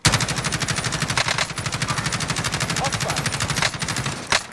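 A rapid-fire automatic weapon in Call of Duty: Warzone rattles continuously and close, with a few sharper louder shots near the end.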